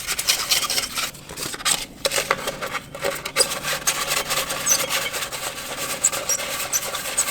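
A Kawasaki, Yamaha or Polaris ATV CVT drive belt is scuffed by hand, giving a continuous close rasping and rubbing with short strokes that pause briefly now and then.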